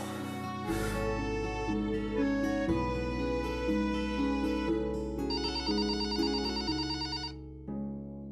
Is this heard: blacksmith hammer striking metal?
no